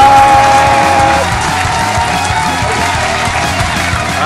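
Dense, steady video game applause fills the whole stretch, loud and continuous with a crowd-like wash, a brief tone at the start.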